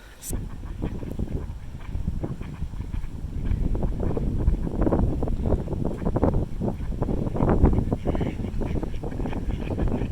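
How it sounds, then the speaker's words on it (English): Gusty wind buffets the microphone with low rumbling thumps and roaring bursts, growing stronger over several seconds, with faint bird calls behind, outdoors in farmland with ducks and cows nearby. "I don't know if you can hear me because it's so bloody windy"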